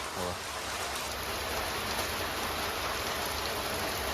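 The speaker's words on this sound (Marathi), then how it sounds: "खतरनाक पाऊस चालू झाला" Heavy rain pours down steadily in a village, a dense continuous hiss of falling water that stays loud and even throughout, with no voices standing out above it.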